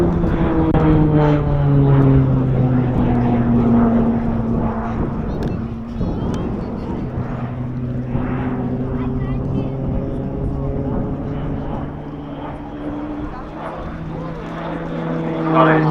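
Propeller aircraft roar overhead at the RAF Cosford Airshow, the engine drone rising and falling in pitch as they turn through the sky, loud and sustained, with an announcer talking over the noise.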